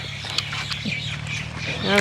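Pigeons, including a white one, squawk and call loudly while being fed raw cashew pieces, with a steady low hum underneath and a rising call near the end.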